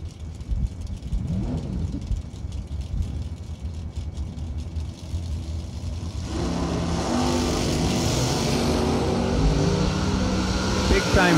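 Drag racing cars launch down the strip, with Terrell Biddle pulling a big wheelie in the left lane; engines build from a rough idle to a loud, sustained roar, and an announcer talks over the start.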